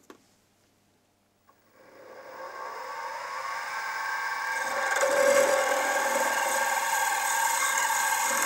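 A 7mm drill bit bores into a Stuart half beam steam engine crosshead, a steady whirring grind that starts after a brief click and holds loud and even to the end, with no talking.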